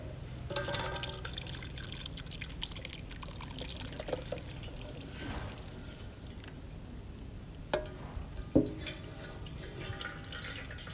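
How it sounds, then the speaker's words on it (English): Zambian munzinzila fruit juice is poured through a sieve, a soft trickling and dripping of liquid with a few sharper splashes and clinks near the end, close and fairly quiet, with no talking. "Then I'm gonna sieve."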